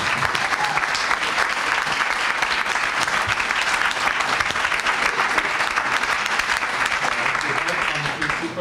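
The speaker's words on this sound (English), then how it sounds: "So I think a round of applause is in order for everybody." Sustained applause from an audience at a PhD defence, steady and dense clapping throughout without a break.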